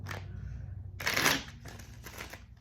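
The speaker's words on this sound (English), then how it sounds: "I'm going to do one more shuffle since I asked it out loud." A deck of tarot cards is shuffled up close, with soft riffling flutters and one louder burst of cards snapping together partway through, over a faint low hum.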